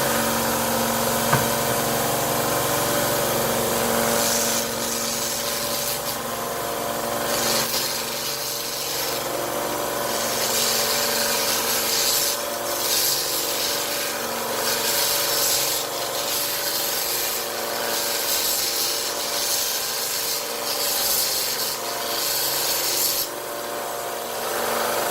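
A Central Machinery 1x30 belt sander runs and sands wood with a loud, continuous broadband rasp and whir, nearly steady throughout, close to the microphone with no voices.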